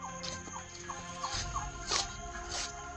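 Chickens cluck in short, repeated bursts close by, with a faint steady hum underneath.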